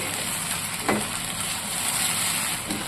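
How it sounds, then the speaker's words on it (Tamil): Steady oily sizzling of tomatoes sautéing in oil in a pan for prawn curry, a constant crackling hiss with a faint scrape or stir partway through. "தக்காளி எண்ணெயில் வதங்கி எண்ணெய் பிரிஞ்சு வரணும் அது வரைக்கும் வதக்கிக்கிறேங்க"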